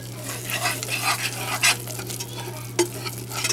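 Flour being whisked into turkey fat for a gravy roux, a close, continuous scratchy whisking over a light sizzle, with a couple of sharper knocks of the whisk against the pan and a steady low hum behind it.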